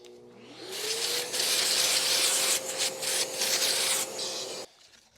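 A Festool RO 150 random orbital sander works wood, its motor spinning up with a rising whine into a loud, steady abrasive rasp that wavers as it moves over the surface, then cuts off abruptly.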